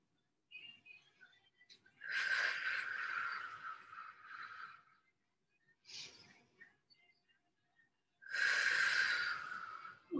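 Deep breaths during a Pilates breathing exercise on a mat: a long, loud breathy exhale, a short inhale, then another strong exhale, all close up with pauses of silence between them.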